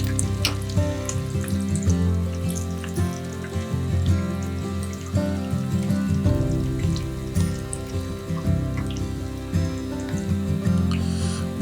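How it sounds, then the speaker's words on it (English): Hominy fritter batter deep frying in hot oil, a steady dense crackle and sizzle of bubbling oil running throughout, close and fairly loud with no talk. "deep frying them until golden brown and crispy"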